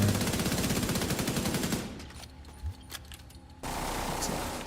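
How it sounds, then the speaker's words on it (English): Shotgun gunfire sound effects: a dense, loud burst of rapid repeated shots, then a short gap with a few isolated reports, followed by another loud burst. No one speaks. "Some shotguns in there."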